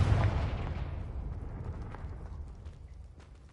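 A fiery spell explosion from the Hogwarts Legacy video game booms loud at the start, then rumbles and crackles as it slowly fades away, with no voices.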